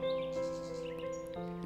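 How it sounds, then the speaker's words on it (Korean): Small birds chirping in the morning, a few thin tweets and short calls rising over a steady bed of tonal background music, fairly faint and continuous throughout. "부지런한 새들 인사하는 소리"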